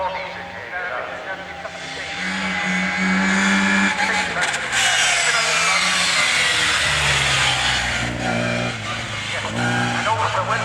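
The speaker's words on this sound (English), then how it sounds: "that little 8 series engine is reeling away there" A rally car at Rallye Prescott 2025 revs its small BMW 8 Series engine, a loud sustained roar that rises and falls, with a commentator talking over it throughout.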